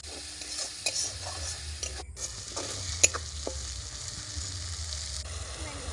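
Spice paste with turmeric and chili powder sizzles in oil while a spoon stirs it with scraping knocks and clinks, in a home kitchen cooking oyster curry; steady close frying hiss throughout, no talk.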